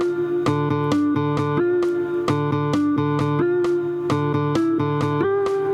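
A clean-toned guitar plays a harmony part. Repeated picked notes run over a low pedal pattern in a steady rhythm, and a higher melodic note shifts near the end of each phrase. The playing is close and clear, with no talking.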